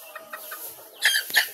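Backyard chickens cluck in a few short, soft calls, then a louder burst of squawking close by near the end.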